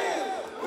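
Crowd cheering and shouting at a strongman Forward Hold event, a brief dense burst of voices close and loud.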